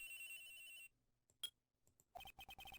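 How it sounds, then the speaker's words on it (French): A mobile phone rings in the Phoenix Wright: Ace Attorney courtroom video game, a bright electronic trill that cuts off, then after a short quiet stretch returns as rapid repeated chirping pulses, with no voices. "j'ai reçu un appel sur mon portable."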